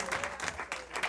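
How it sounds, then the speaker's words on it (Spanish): Audience applause at a tribute concert for a Cuban singer, a brief burst of steady, fairly close clapping that swells and dips in quick waves. "Un aplauso, que se vale."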